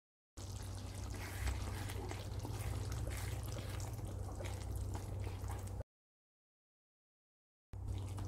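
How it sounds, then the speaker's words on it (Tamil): Chettinad pepper chicken gravy simmering in a pan, a steady close bubbling and sizzling hiss that runs for several seconds, cuts out, then briefly resumes. "ஒரு 2 நிமிஷம் கொதிக்கட்டும்."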